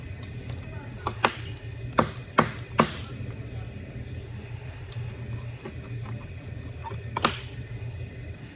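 Dry clay being crushed into powder, several sharp knocks and thuds spaced irregularly over a low background hum, close and fairly loud.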